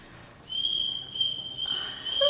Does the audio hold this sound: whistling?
yes